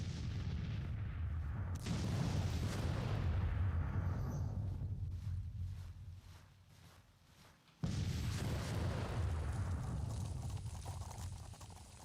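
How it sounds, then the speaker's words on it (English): Civil War artillery batteries fire in Grand Tactician: The Civil War, with two heavy booming cannon blasts whose deep rumbling echoes roll out and fade slowly, the second sharp report cutting in after a quiet lull. "All of our batteries of artillery are now in action"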